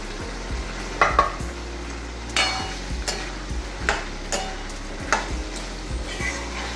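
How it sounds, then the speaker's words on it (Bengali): Diced potatoes fry in oil in a pan for a Bengali fish-oil vegetable curry, a steady close sizzle broken by repeated knocks and scrapes of a spatula stirring, with no talking. "আলুটা শক্ত সবজি, একটু ভাজা হবে,"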